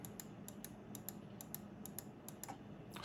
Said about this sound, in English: Right click button.